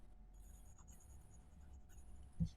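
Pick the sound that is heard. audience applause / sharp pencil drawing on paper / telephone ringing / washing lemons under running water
sharp pencil drawing on paper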